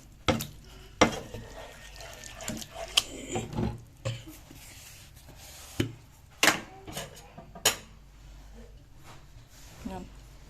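A spoon stirs tahini into Alexandrian fava beans in a pot, with scattered scraping clinks and knocks close by and soft mixing between them.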